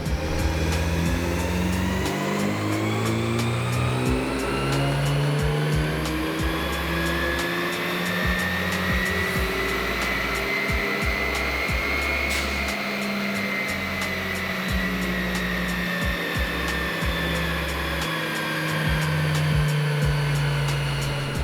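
A car engine drones at steady high revs through a dyno pull with a PRL cold air intake fitted, a continuous loud roar with rising pitch and no talk.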